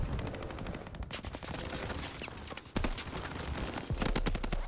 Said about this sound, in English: There's also a guy shooting me from right here.